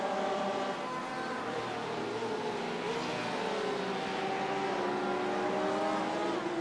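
Race cars hum and whine steadily around the final corners of Fuji Speedway in a racing video game, engine tones rising and falling together as one constant drone with no pauses.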